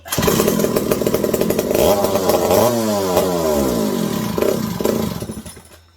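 A McCulloch 740 chainsaw engine, freshly fitted with a swapped carburetor after a spark fix, runs loudly and steadily, its pitch sweeping up and down as it revs, then dying away at the end.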